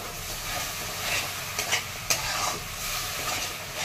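Rajma (kidney beans) with salt being sautéed and stirred in a pan, a continuous close sizzle with scraping stirs and a few sharp clinks of the spoon.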